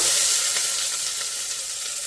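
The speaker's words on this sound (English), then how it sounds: "We'll add a little bit of oil to the bottom of our pot, and then we're going to go ahead and add our onions." Onions just added to a little oil in a pot sizzle loudly and close up, a bright hissing crackle that eases slightly over two seconds, with no voices.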